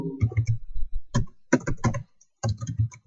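Close-up typing on a computer keyboard, with irregular clusters of sharp key clicks separated by brief pauses.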